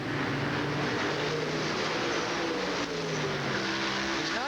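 USAC sprint cars racing at Indianapolis Raceway Park in 1989, a dense, continuous roar of several engines at full throttle on the track, steady and loud with shifting pitch as cars pass.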